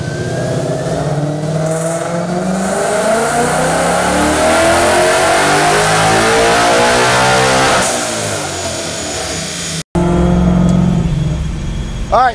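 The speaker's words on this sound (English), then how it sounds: "we're gonna go ahead and do a pull in third and fourth gear" A 2024 Ford Mustang, running an unlocked tune, accelerates hard through third gear: a loud, close engine note climbs steadily in pitch for about ten seconds to the factory rev limiter, then cuts sharply before a brief resumed roar.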